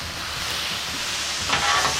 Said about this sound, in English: Give it a good stir. Get that seasoning mixed in there real well.